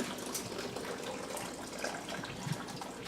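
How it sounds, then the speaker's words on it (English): Homebrewed hop tea poured into a fermenter for an IPA: a steady, quiet liquid splash and trickle lasting about three seconds, with no talking. "pour the hop tea into the fermenter"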